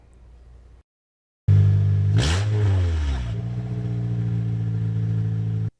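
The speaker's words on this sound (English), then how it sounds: "This is the sound of a car without its catalytic converter." A car engine without its catalytic converter starts up with a loud, raspy roar and a sharp rev, then settles into a rough, throaty idle, heard up close.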